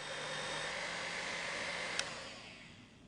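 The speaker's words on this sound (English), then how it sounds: "Beat it all together with a mixer." An electric mixer whirs steadily, beating a cake batter containing black treacle in a country house kitchen. The motor drone is constant and close, with a small clink partway through before the sound gradually fades; no one speaks.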